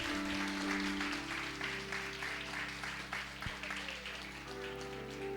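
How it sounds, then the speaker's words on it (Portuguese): Church congregation applauds steadily, a dense, sustained wash of clapping filling the room for several seconds over a low organ-like drone, with no one speaking. "Aplauda o Senhor"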